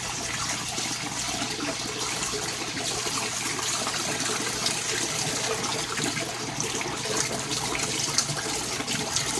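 Water rushes through a siphon in a barrel aquaponics system, a steady gushing flow with a trickling edge that holds at an even level throughout.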